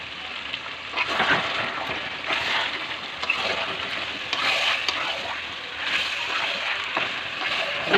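Goat meat cooks in a pan with garlic, ginger and green chilli pastes, tomato, chilli powder and meat masala. A spoon scrapes and stirs in repeated bursts over a thick, steady sizzle, up close, with no talk.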